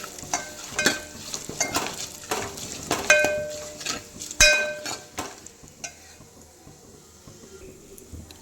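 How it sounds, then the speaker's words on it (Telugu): Onions frying in oil with curry leaves and turmeric, stirred in a pan while making a spicy egg and garlic dish: steady sizzle under repeated scraping strokes and metallic clinks of a spoon, loud and close, with no voices. "దీంట్లోనే కొద్దిగా కరివేపాకు, దీంట్లో కొంచెం పసుపు కూడా వేసుకొని కలుపుకోవాలి"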